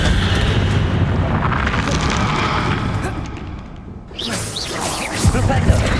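A fiery Confringo spell blast in Hogwarts Legacy combat, a roaring, booming rush of flame and explosion that dips briefly before another loud burst, with crashing debris.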